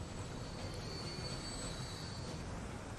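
Train pulling into a station in the Transport Fever 2 game, a continuous rolling rumble of wheels on rails with a thin high squeal running across, steady and close.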